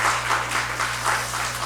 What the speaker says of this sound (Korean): 잘 다녀올 수 있도록 여러분들 격려와 사랑의 박수를 좀 쳐주시면 감사하겠습니다